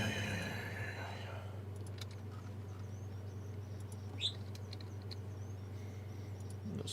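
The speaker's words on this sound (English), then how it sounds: "The sounds of a bird tweeting in the background." Small bird tweeting faintly in the background, a few brief high chirps scattered over a low steady indoor hum, with one slightly clearer call in the middle.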